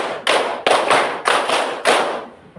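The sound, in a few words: two hand claps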